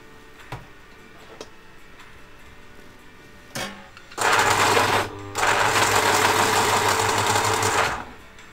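An electric sharpener grinds a colored pencil, a few light clicks first, then a loud steady whir of about four seconds, broken by one short pause.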